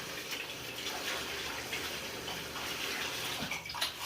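Running tap water splashing over hands being washed in a kitchen sink, a steady broadband gush that continues at an even level without talk.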